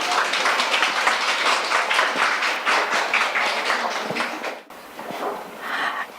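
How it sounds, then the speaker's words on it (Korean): An audience at a speech event applauds warmly with dense, sustained clapping. The applause dips briefly, then swells again before fading. "큰 박수 부탁드립니다."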